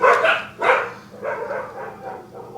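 Dogs outside bark a few times, two sharp barks followed by softer, trailing yips, heard from some distance indoors.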